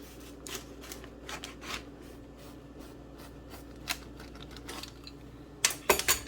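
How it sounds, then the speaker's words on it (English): A pizza cutter rolls through a cooled loaf of carnivore bread for hoagie or hotdog buns, giving a run of irregular crisp scraping clicks that grow louder and sharper near the end, with no talking. "I'm just going to cut it with a pizza cutter"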